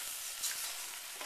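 Ingredients melting in a hot pan for Polish Mistakes, giving a short, steady, soft sizzle close by with no talk.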